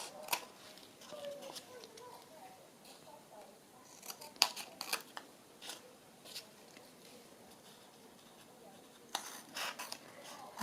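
Scissors snipping excess paper off handmade belly bands, a series of quick close crisp cuts in short bursts with pauses, quiet and alone in a calm craft room.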